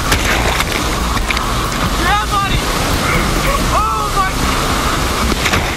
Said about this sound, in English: You are on one of the planet's natural thrill rides, rafting through whitewater rapids.